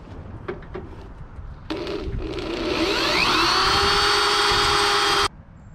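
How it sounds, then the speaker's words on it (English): A power drill bores out a hole on a Mazda Miata for a lazy-eye headlight mod: a few light clicks, then the motor whines up loudly and runs steadily under load for a few seconds before stopping abruptly. "So I'm gonna drill that hole out a little bigger"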